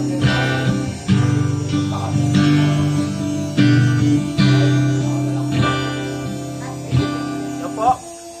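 Smoothly picked guitar set up with low action: a handful of separate notes and chords, each struck cleanly and left to ring out and fade, played close with no voices.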